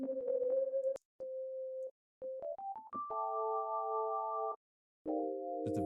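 A sine wave runs through a very slow chorus effect plugin, playing sustained pure tones and stepped rising notes that are separated by short silences, clean and close.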